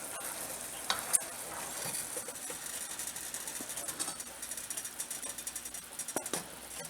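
Caramel pie filling is stirred as it boils in a pot, a steady bubbling and sizzling bed with faint scraping strokes running throughout and no speech.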